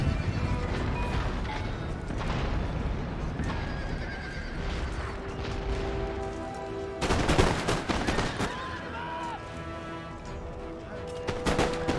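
Musket volleys crack out in Empire: Total War amid battle noise, with horses whinnying and hooves clopping. A dense burst of gunfire comes near the middle, and scattered shots follow over a steady din.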